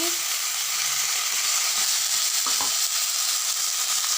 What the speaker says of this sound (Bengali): আমাদের আলু ভাজা ভাজা হয়ে গেছে এটাতে আমরা এবার মশলা অ্যাড করবো